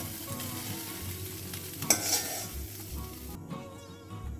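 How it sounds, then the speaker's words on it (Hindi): Soya chunks frying in hot oil in a pan give a steady close sizzle with stirring scrapes, a brief louder clatter near the middle, then the hiss thins out at the end. "ये देखिए सोया चंक्स हमारा फ्राई हो गया है"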